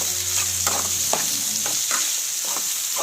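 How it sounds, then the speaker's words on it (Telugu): Prawn curry fries in a pan as it is stirred, a loud close sizzle broken by several rhythmic scraping strokes of the spoon against the pan. "వేసి మొత్తం అంతా కలిసేటట్టు తిప్పండి."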